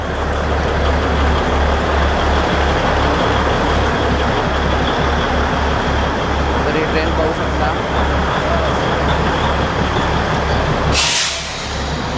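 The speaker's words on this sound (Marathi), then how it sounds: "ही ट्रेन टॉय ट्रेन ही ट्रेन माथेरानमधून स्टार्ट होणार" The Matheran toy train, a narrow-gauge service whose last stop is Neral, rumbles loudly and steadily nearby with a rhythmic low clatter of wheels over rail joints. A brief hiss breaks in near the end.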